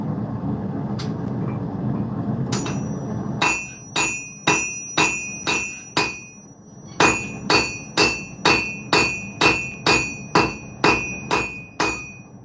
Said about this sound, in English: notice my hammer strikes are a little all over the place